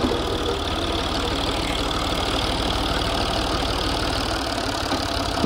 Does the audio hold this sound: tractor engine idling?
yes